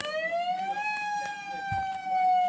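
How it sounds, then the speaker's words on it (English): Tsunami warning siren sounding as a steady, loud rising-then-level wail with strong harmonics, continuous for the whole stretch, close and alone without talk. "Time for the tsunami siren."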